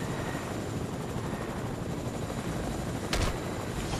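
A video game helicopter drones with a loud, steady rotor and engine roar, close and constant throughout, with a brief sharp crack near the end and no talking.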